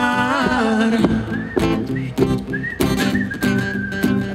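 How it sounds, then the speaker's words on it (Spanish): A person at a crowded outdoor concert in Puebla tries to whistle, producing wavering, broken whistled tones over loud background music and crowd noise. "No puedo chiflar, güey."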